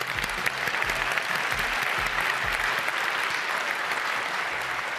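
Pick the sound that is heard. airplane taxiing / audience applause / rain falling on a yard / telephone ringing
audience applause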